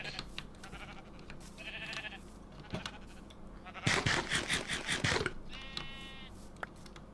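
Sheep bleating in a farming video game, with several distinct bleats spread across the clip, including a louder, rougher burst near the middle, over low background game noise.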